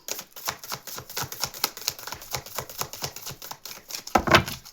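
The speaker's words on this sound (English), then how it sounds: "one more shuffle and then I'll grab the top one" A deck of cards being riffled in quick, crisp bursts of rapid clicking, close and fairly loud, ending with a sharper flutter.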